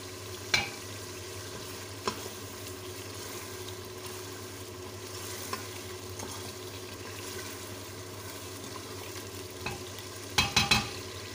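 Daal mash fries quietly with spices being mixed in, a faint low sizzle under sparse scraping stirs, with a short cluster of sharper clinks near the end.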